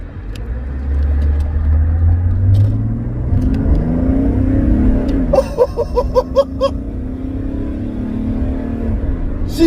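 A Mercedes-Benz OM606 turbodiesel car accelerating under boost, loud and close, its deep engine drone climbing steadily in pitch with a brief rattling stutter midway before pulling on strongly.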